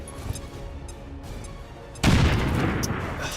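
Grenade explosion in the video game XCOM 2, a sudden loud blast erupting midway after quieter ambient game sound, followed by a sustained rumbling roar.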